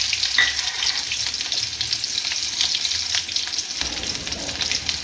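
Small shallots fry in hot oil as a tempering for onion sambar. The sizzle is steady and crackling, with a few sharper pops and some stirring, and no talk is heard.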